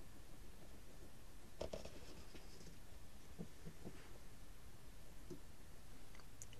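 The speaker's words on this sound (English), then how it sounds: "I'll now put a mark with our pencil into this tube." A pencil marks a tube with faint scratching strokes against a steady hiss of background noise. A few short scrapes and ticks sound at close range.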